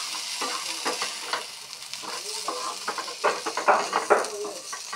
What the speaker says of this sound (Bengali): এখন দিয়ে দিচ্ছি অল্প সয়া সস